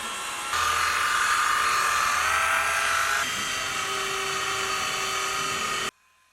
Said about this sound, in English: I'm using a mini rotary. I'm just going to apply some to the pad and machine polish this clear.